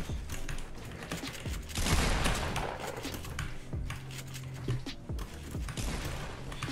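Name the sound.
gunshots in the video game Fortnite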